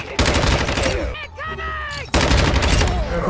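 Rapid assault rifle fire in Call of Duty: Modern Warfare 2, loud close bursts with a short gap in the middle where a voice talks over the game sounds, then the shooting resumes.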